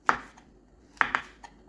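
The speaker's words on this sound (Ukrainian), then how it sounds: "300 г печериць нарізаємо на довільні шматочки." A knife cuts champignon mushrooms into rough pieces on a board, three or four crisp, close chops spaced unevenly.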